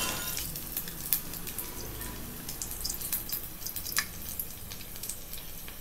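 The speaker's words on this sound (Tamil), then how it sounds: "டிப் பண்ணிவிட்டு இப்போ ஆயில் அதை சேர்த்துடலாம். நல்லா ஃப்ரை ஆகட்டும்." Egg masala bonda deep-frying in hot oil gives a soft, steady bubbling sizzle with scattered faint crackles and pops, heard alone and fairly quietly.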